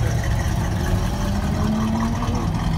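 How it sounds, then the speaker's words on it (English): A car engine revving loudly and continuously at a busy Cars & Coffee car show, a steady throaty roar with no talking over it. "the guy's revving"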